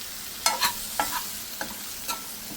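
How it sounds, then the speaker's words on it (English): Chopped fresh okra frying with onions, ginger, garlic, chilies and spices, stirred with a spoon over a steady close sizzle, about five distinct scraping strokes spread across a few seconds, no voices. "mix it well with the onions, ginger, garlic, chilies and spices"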